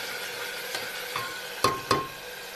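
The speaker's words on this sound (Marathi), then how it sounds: "आता आपण धुतलेली डाळ आहे ना ती डाळ टाकून घेते" Washed mixed dal tipped into hot oil for a dal tadka, giving a soft, steady sizzling hiss with two sharp clinks of a utensil against the pan near the end.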